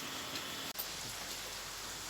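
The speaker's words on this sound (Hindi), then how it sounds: "सुबह से ही बारिश हो रही है।" Steady rain falls outdoors, making a constant dense hiss of drops on surfaces. It is heard alone throughout, with a brief dropout near the start.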